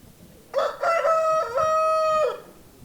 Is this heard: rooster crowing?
yes